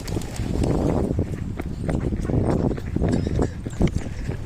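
A person runs outdoors while filming with a Poco F7 or Honor 400 phone, producing rapid, rhythmic footfalls with close, steady thumping and handling noise throughout.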